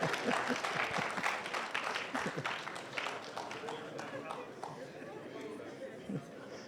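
An audience at a Ghana Statistical Service report launch gives a sustained round of applause, dense clapping mixed with crowd chatter and a speaking voice, steady throughout.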